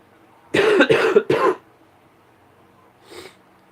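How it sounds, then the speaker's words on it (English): A person gives three quick, forceful coughs close to the microphone, then a softer single sniff or cough after a short pause. "Sorry you all have to hear me sniffle and cough and all that."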